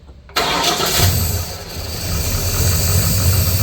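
A 1934 Ford engine cranks and fires right up, then settles into a steady, loud, close idle that carries on alone to the end.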